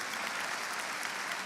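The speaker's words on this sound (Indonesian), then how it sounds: "Ayo tepuk tangannya, ditambahkan lagi." A church congregation claps together during a sermon, giving a short, dense wash of steady applause with no breaks, heard at moderate distance.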